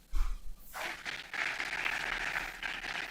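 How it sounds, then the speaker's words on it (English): Applause from a conference audience in Kigali for a secretariat team, beginning after a low thump and swelling into a steady, moderately distant wash of clapping. "que je vous demande d'applaudir s'il vous plaît."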